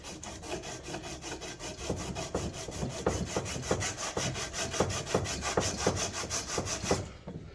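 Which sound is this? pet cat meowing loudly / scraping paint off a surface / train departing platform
scraping paint off a surface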